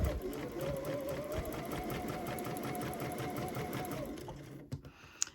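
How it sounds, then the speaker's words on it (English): A sewing machine stitches a scant quarter-inch seam on a quilt block, running in a steady, close, rhythmic whir for about four seconds before stopping with a few small clicks. "we're going to sew this seam at a scant 1/4 of an inch"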